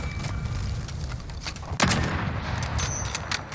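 Shotgun blast in a first-person shooter game, one sharp loud report near the middle over a busy, noisy background of other gunfire and game sounds.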